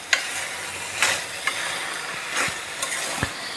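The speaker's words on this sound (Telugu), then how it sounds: "2 సార్లు 2 స్పూన్లు నెయ్యి వేసుకొని కలుపుకోవాలండి మనం." Ghee is worked into pumpkin halwa in a pan: a soft, continuous sizzle under a handful of distinct scraping stirs and light clinks from a spoon, close up, with no talk.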